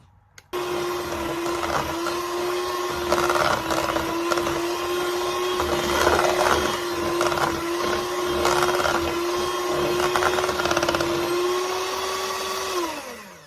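An electric mixer whisks butter with powdered sugar for Scottish shortbread dough, a steady loud whine with a sustained motor tone that starts abruptly, holds for several seconds, then winds down at the end.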